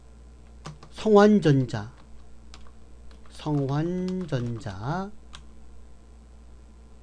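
A computer keyboard used to type numbers and press Enter while entering accounting figures, giving sparse light key clicks under a person speaking.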